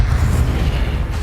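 Levioso spell cast in Hogwarts Legacy, a loud low rumbling whoosh with a dense, sustained magical boom throughout.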